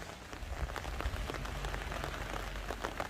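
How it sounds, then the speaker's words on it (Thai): Rain falls steadily on a home vegetable garden abroad, a dense, even patter of drops striking leaves and surfaces close by, with no voices. "ฝนตกนะคะ ก็เลยจะต้องออกมาเก็บทั้งฝนเนี่ยแหละค่ะ"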